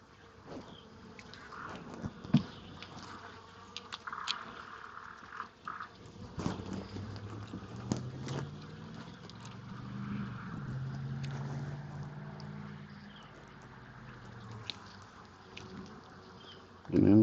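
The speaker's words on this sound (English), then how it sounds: "Getting into some bees over here." Honeybees drone around an opened hive at a home yard as the beekeeper works the frames, a continuous buzzing swarm with occasional close passes and faint handling noises.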